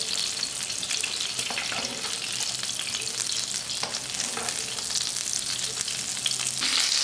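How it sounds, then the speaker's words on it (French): Duck breast fries skin side down in a very hot pan, a loud, dense sizzle crackling continuously throughout with no talk. "Dans une poêle bien chaude, faites cuire le magret. On va commencer côté peau, environ 5 minutes."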